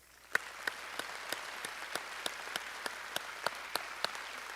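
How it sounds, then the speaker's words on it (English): Sparse, distant applause from a university commencement audience in a large hall, individual claps spaced fairly evenly and faint. "join me in giving them a round of applause"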